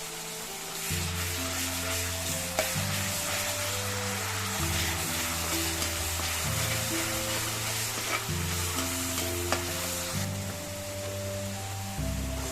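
Ginger-garlic paste sautés in hot oil for a prawn roast, giving a continuous loud sizzle with stirring scrapes and occasional clinks of the spoon, no voices.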